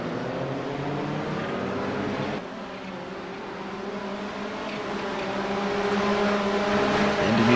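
GT race cars in a racing video game at Barber swing through Museum Corner nose to tail, a loud, close engine drone that dips as they brake, then swells again as they accelerate out, with no voices.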